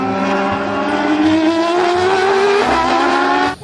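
A Formula One toy race car gives off a loud, close, high revving engine whine that climbs in pitch, with rhythmic low thumps beneath, then cuts off abruptly near the end.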